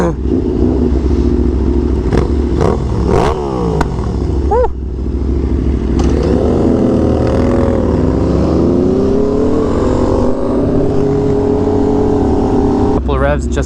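A motorcycle engine idles and blips its throttle with a loud, throaty exhaust, a voice talking over it throughout.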